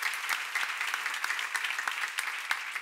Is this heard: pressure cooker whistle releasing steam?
no